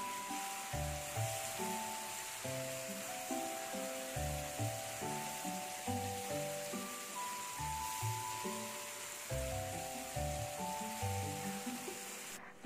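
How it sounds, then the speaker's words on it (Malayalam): Masala-coated fish frying in a pan, a soft steady sizzle with bursts of crackle that pulse every couple of seconds, heard alone at low volume. "അപ്പോൾ ഇനി ഇതൊന്ന് ഫ്രൈ ചെയ്തെടുക്കുകയാണ്."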